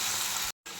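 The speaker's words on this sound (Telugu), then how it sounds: "ఆయిల్ హీట్ ఎక్కింది కదా, ఇప్పుడు మనం కట్ చేసుకున్న అరటికాయలు ఇందులో వేసేయాలి" Cut raw plantain pieces dropped into hot oil, a loud dense sizzle that cuts out briefly and then resumes, very short, no voices.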